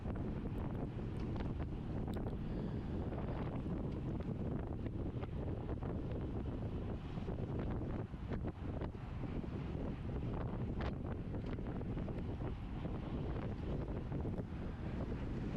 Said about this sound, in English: because the wind is so strong